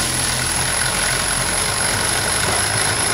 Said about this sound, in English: So if we start the pump now, on the next run, it will only put 50 litres into the tank.